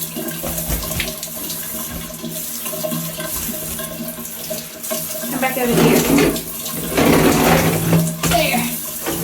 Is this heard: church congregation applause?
no